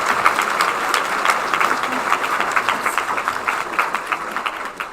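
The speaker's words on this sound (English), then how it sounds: "Please give the candidates another round of applause" Sustained audience applause at an all-candidates meeting in Guelph, a steady dense clapping that fills the room for the whole stretch at fairly close range.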